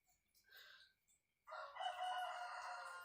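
A rooster crows in the morning in a village setting, two calls heard, a shorter faint one first, then a long loud drawn-out crow, moderately near against quiet surroundings.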